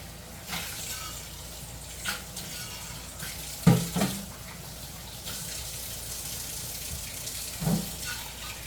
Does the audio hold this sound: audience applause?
no